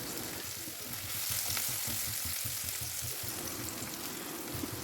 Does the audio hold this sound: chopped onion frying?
yes